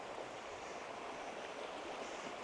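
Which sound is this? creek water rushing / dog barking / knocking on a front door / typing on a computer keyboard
creek water rushing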